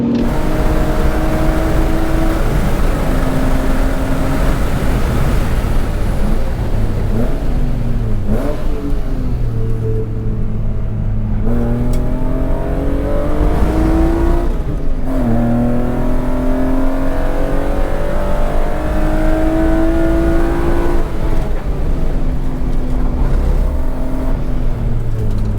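An E36 BMW M3 laps a race track, its engine loud and close from inside the car, rising and falling through repeated revving gear pulls and shifts, with steady road and wind noise throughout.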